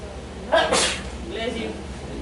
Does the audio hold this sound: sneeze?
yes